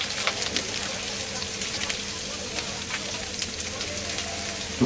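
Chopped ginger frying in a pan, a steady crackling sizzle with scattered sharp pops, close and continuous, no voices over it.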